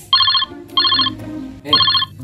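A telephone ringtone rings in three loud electronic bursts, evenly spaced, with quiet room noise between them and no speech.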